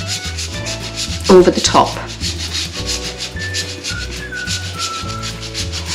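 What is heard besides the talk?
grating dark chocolate over a cake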